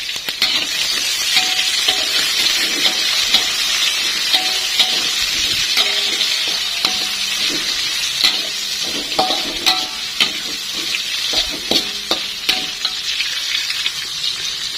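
Squid stir-fried in a chili spice paste sizzles steadily in a hot pan, with frequent scrapes and clacks of a spatula stirring throughout, close and fairly loud with no talking.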